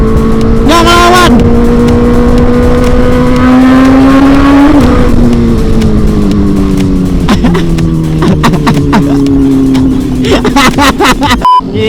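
Yamaha Aerox scooter fitted with a swapped Honda CB400 engine races hard, its loud high engine note rising and dropping through gear changes with other engines nearby, and a voice shouts over it.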